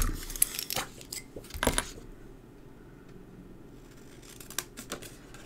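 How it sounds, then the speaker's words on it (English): Paper is cut by hand with scissors for a baby boy mini album, making a few crisp close snips and rustles near the start, then quiet before more snipping at the end, with no voices. "so I'm going to cut that out"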